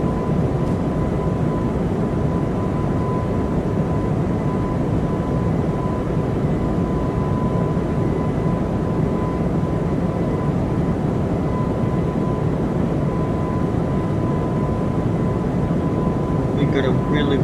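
A Breeze Airbus A220-300 airliner flies from LAX to JAX with a loud, constant engine and airflow drone. A thin steady tone sits over the roar, which holds unbroken throughout.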